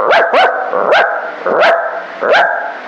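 A ventriloquist mimics a dog barking with unmoving lips, producing five sharp, evenly spaced yips and barks, close and loud with nothing else underneath.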